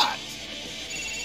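A telephone rings in the video game GTA 4, a brief electronic ring with a high tone at the start, then fading into a steady background hum.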